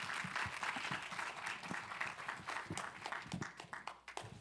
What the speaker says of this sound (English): So let's give our two opening guests a real huge round of applause and welcome them to SVA.